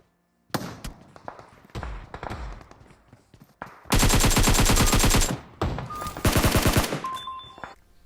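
Rapid automatic gunfire from the mobile battle-royale game PUBG Mobile, with scattered single shots at first and then loud, dense sustained bursts of close fire.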